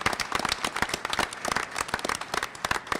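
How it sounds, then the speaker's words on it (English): The crowd at a Newport school committee meeting bursts into close, lively clapping, with many distinct claps forming a dense, uneven patter throughout. "I'd like a special round of applause."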